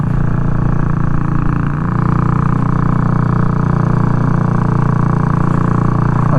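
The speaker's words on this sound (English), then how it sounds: "Can you believe the noise this thing makes?" Royal Enfield 350 Bullet single-cylinder engine with the baffle in, running steadily at a loud, constant throb with a deep, even exhaust note and a brief dip near the start.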